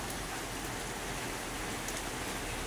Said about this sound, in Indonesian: sedang turun hujan cukup deras.